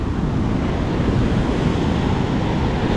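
Sea waves crash continuously onto the shore at Varkala in Kerala, a loud, dense roar of surf mixed with wind buffeting the microphone, with no voices.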